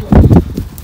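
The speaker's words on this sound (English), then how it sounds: "That other horse there." Horse hooves clopping on the ground at a farm, a few close, heavy thuds in quick succession followed by softer steps.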